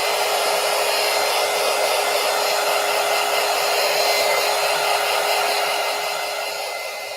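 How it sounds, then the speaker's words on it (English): A handheld dryer blows hot air steadily over wet paint on an art journal page, a loud continuous whir with a fixed tone that holds unchanged for several seconds and fades slightly at the end, with no talking. "Let's go ahead and dry it just a little more."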